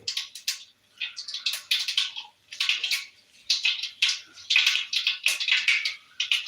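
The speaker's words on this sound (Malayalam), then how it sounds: "കടുക് പൊട്ടുന്നുണ്ട്" Mustard seeds popping in hot oil for a breakfast dish, a close, bright crackle of quick pops coming in dense clusters with short quiet gaps between them.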